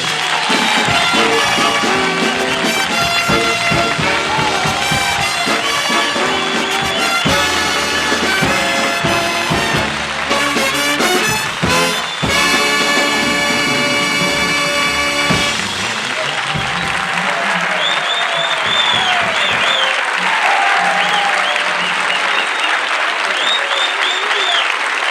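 Studio audience at a 1972 Dick Cavett talk show with guest Don Rickles applauds loudly and steadily, with a band playing alongside through the first part before the clapping carries on alone.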